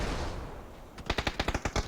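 Bursts of automatic gunfire in the battle royale PUBG, a rapid run of about a dozen loud, evenly spaced shots that follows a stretch of steady wind-like noise.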